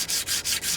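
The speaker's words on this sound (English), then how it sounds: "you want to sand this down a little bit" A hand sanding pad rubs back and forth along a wooden broadfork handle, four steady rasping strokes in a quick, even rhythm, close and alone.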